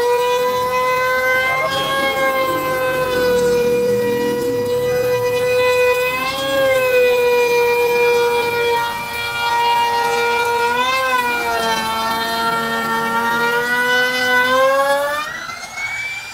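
A DongCheng DMP02-6 trimmer router motor runs as a loud, sustained high whine that wavers and shifts pitch several times while the bit works through material.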